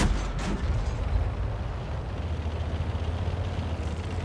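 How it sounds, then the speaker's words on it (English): A tank cannon fires in World of Tanks with one sharp, loud blast near the start, followed by a steady low rumble of engine and battlefield noise, with no voices. "We missed a shot there on the Crusader"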